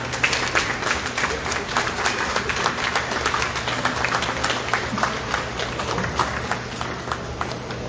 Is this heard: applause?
yes